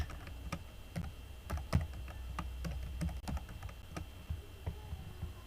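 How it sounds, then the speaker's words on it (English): Typing on a computer keyboard while a table is set up in a document: a quick, irregular run of close, crisp key clicks over a faint steady hum, with no talking. "you could start typing."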